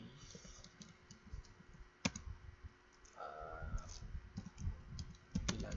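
Quiet clicking keystrokes on a computer keyboard as a network switch configuration command is entered, irregular taps with a few louder hits, no voice.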